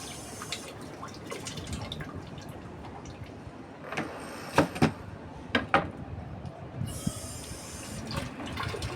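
Food being rinsed under a running kitchen tap while dinner is prepared, a steady low wash of flowing water with a few louder splashes and drips near the middle and toward the end.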